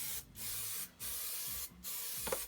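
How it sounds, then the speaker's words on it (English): Aerosol spray adhesive hisses onto the back of a photographic print in three steady bursts with brief pauses, close and moderately loud, with light handling sounds at the end. "use that same old roller to hold it down while I spray the other side"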